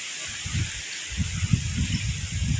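A pressure cooker lets off a steady, loud hiss of escaping steam, a continuous broadband rush over low rumbling noise, in an outdoor kitchen cooking sweet potatoes and jackfruit.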